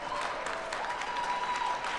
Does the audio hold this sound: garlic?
no